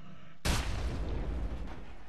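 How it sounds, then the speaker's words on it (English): A single sudden grenade blast in the shooter game FEAR 2, a sharp loud boom that decays into a rumbling tail over about two seconds. "Grenade."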